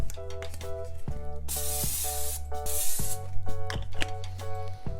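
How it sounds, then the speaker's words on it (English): Cooking spray hisses in several bursts into a crock pot, close and loud, while a clip-on mic or nearby device lays a patterned tonal buzz underneath. "So let me start by spraying the crock pot."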